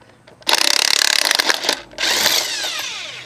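A power tool with a 21mm socket spins wheel nuts off a Nissan Pathfinder: a loud, close, rapidly pulsing rattle, a short pause, then a steady whirring run.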